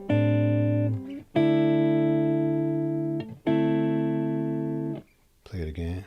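Electric guitar rings out sustained minor 9 chords in three long strums, each held and fading, followed by a brief burst of talking at the end.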